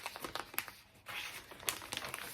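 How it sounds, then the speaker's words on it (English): Crinkly rustling of a knitted sock project and packaging being handled close by, a run of soft crackling bursts with brief pauses. "Excuse the rustling"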